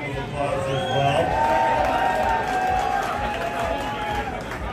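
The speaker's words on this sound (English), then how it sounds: "He deserves a big round of applause as well." A crowd cheers, whoops and claps after a live concert at El Corazón in Seattle, a loud, steady wash of voices and applause with shouts rising above it.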